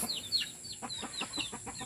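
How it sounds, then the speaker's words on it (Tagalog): Chickens clucking and chirping in short, repeated calls, fairly close, with no one talking. "Tingnan nyo yung mga patuka natin, yung mga manok natin."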